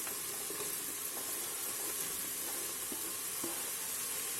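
Chopped carrot sizzles in a frying pan alongside peppers over moderate heat, a steady close frying hiss with soft scraping clicks from a spoon stirring the vegetables now and then.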